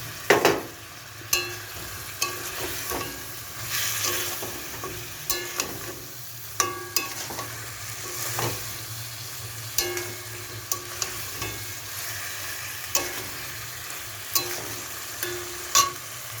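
Fried fish is added to potatoes in a pan and stirred, a low continuous sizzle broken by repeated scraping and clinking strokes of the spoon against the pan.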